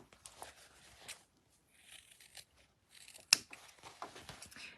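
Scissors snipping the corners off fabric scraps, a series of quiet, close cuts and rustles with short pauses between them and one brief sharper snip.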